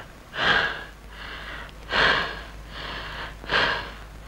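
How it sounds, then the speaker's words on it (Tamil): A patient takes three slow, deep breaths, each a clear, close, breathy inhale and exhale, during a doctor's examination in a classic Tamil film scene. No one talks. "நல்ல மூச்சு விடு"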